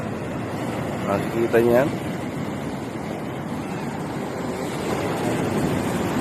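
Ocean surf at Pacific Sunrise Beach rushes in a continuous, heavy wash of breaking waves, with wind buffeting and a person speaking briefly early on.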